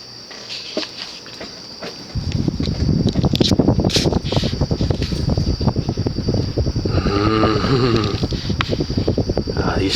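A Spring Wind Fan Co. Firebird 52-inch ceiling fan with heavy plastic blades kicks up to high, giving a loud, rapid rhythmic whooshing and fluttering with a steady motor hum that persists throughout.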